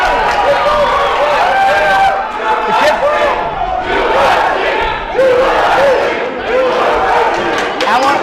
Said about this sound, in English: I'll let the crowd commentate here.